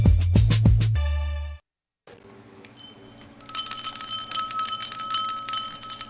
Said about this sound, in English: I feel like Christmas is coming with those bells.